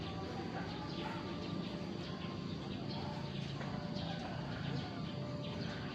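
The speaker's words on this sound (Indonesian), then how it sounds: "ini adalah kuda-kuda yang juga akan berlatih pada pagi hari ini" Racehorses at a morning training session at the H.M. Hasan Gayo racecourse in Takengon, Aceh, with hooves faintly clip-clopping among steady outdoor noise, birds and distant voices.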